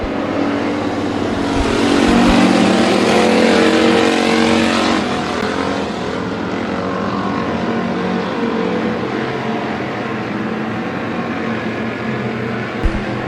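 Race cars circle the Bakersfield Speedway oval, engines roaring loud and continuous as the pack sweeps past, the sound swelling near the start then settling into a steady far-off drone.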